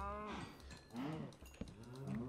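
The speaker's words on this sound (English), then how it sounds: "I'm trying to kill all these stupid cows." Cows in Minecraft moo repeatedly, several low drawn-out calls overlapping, faint and distant, with a soft thud midway.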